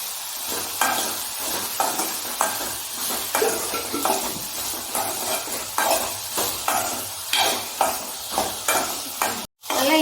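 Chopped bottle gourd with rock salt sizzles in a pan for chutney while a spoon stirs it in regular scraping strokes, close and continuous, with a brief break near the end.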